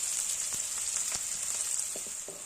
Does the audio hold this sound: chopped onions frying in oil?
yes